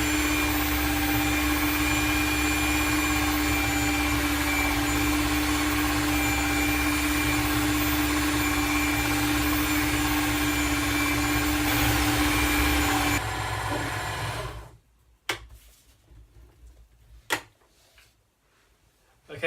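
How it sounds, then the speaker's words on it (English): An electric mixer churns carp bait steamie dough with a steady, loud motor whir and rumble for about thirteen seconds, then shuts off, leaving a few sharp knocks and clatters in near quiet. "now we're going to put the mixer on and just get this started"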